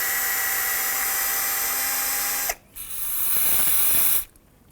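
A Jeep Wrangler rear brake caliper gets a rinse from a close, loud spray that hisses for about two and a half seconds, then a second, brighter burst follows after a brief pause, with no talking.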